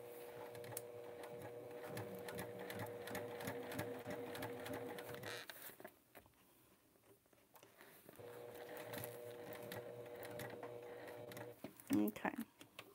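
A sewing machine stitches through sticky vinyl on a test bag, running in two long steady bursts with a brief pause between, fairly close and loud, ending with a few clunky mechanical knocks.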